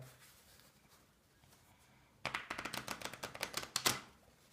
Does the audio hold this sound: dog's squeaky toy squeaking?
no